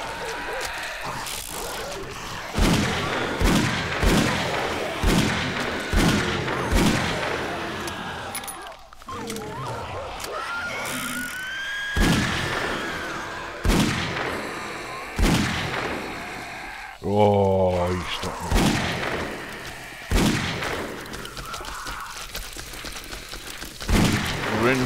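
Repeated Magnum revolver shots in the video game Killing Floor ring out in irregular bursts amid game action, clattering and mechanical effects, with a voice speaking over parts of it.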